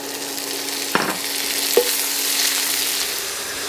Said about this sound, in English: And you constantly stir it is how you get it so that it doesn't burn on the bottom.